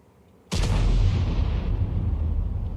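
T92 HMC self-propelled artillery in World of Tanks firing premium ammunition, a single sudden heavy boom after a quiet half second, followed by a long, deep rumbling decay.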